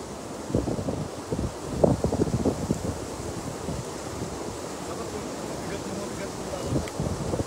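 Strong wind gusts across a microphone beside a river where fishing with a net is underway, a steady broadband rush with scattered bumps and rustles, fairly faint overall.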